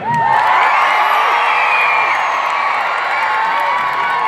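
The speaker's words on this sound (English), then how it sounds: "Can everyone who is, say, less tall cheer?" Shorter children in a crowd at a youth rally in Ottawa cheer loudly, a sustained mass of shrill yells and whoops with rising and falling pitches, close and full throughout.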